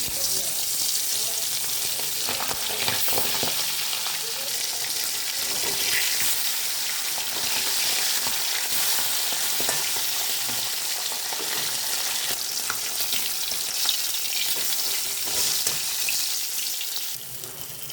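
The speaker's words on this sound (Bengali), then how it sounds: "তো চলো মাছগুলো ভেজে নিই" Pomfret fish fry in oil with a dense, steady sizzle that runs evenly for the whole stretch and eases slightly at the end.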